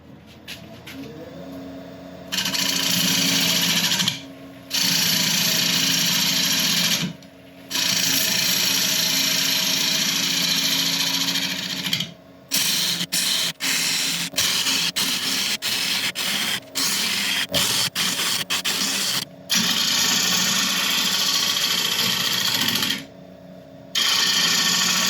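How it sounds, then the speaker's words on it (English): A woodturning lathe spins a workpiece while pull cuts are made with a ProComfort turning tool, producing a loud, steady scraping hiss that stops and restarts in several bursts, with rapid clicking stretches between cuts. "So we'll just start working up these corners with pull cuts and see how that gets on."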